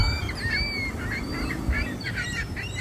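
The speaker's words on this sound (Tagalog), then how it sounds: "Mga wild duck." Wild ducks call outdoors near a highway stopover in Toronto, their short quacks and honks overlapping faintly over a steady background rumble, with no one talking.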